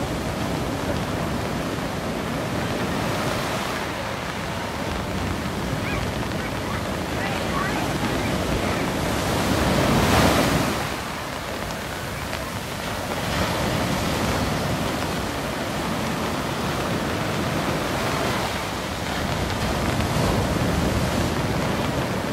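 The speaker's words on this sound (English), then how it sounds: "Beautiful sound of the ocean, the Indian Ocean here, folks." Indian Ocean waves roll and break at Cottesloe Beach on a rainy, windy day, a steady broad wash of surf with swelling crests and gusts buffeting the microphone.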